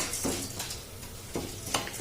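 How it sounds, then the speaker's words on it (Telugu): Ingredients for an old-style chutney being stirred and fried in a pan, with a soft continuous sizzle and scraping strokes of a spoon against the metal, close and alone. "చూడండి, ఇలా కలుపుతూనే వేయించుకోవాలి."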